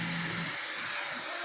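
A Turbo mini fan running on a table, close by, giving a steady breathy whirr of rushing air across the whole short stretch.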